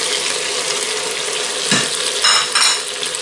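Onion and bell pepper frying in a pan for rice with chicken and rabbit, a loud, close, steady sizzle with a few stirring scrapes near the end.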